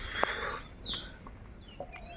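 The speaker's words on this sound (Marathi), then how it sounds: "पक्ष्यांचा आवाज येते." Several birds call outdoors on a roadside stop during a motorbike ride, short chirps and a rising whistle scattered across a couple of seconds, fairly distant over soft background noise.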